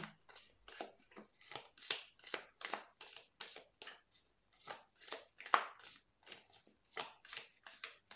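Tarot cards are shuffled and drawn by hand, a quick run of crisp papery riffles and slaps repeating in close succession, fairly near and clear with no talking.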